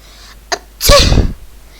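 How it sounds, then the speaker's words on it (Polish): One person sneezes loudly and close, a short intake of breath followed by a single sharp, burst-like sneeze, with no talking around it. "Kichnąłem"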